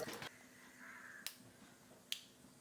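Mustard seeds pop in hot sesame oil for a gooseberry pickle, with three sharp, separate cracks over quiet sizzling in a close, calm kitchen.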